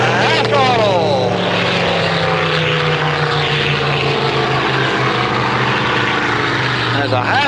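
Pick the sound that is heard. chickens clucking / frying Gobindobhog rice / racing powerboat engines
racing powerboat engines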